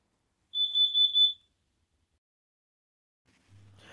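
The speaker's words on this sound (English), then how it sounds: "My alarm went off." A home smoke alarm goes off with a fast run of loud, shrill beeps lasting about a second, then stops, leaving near silence before a low rumble at the end.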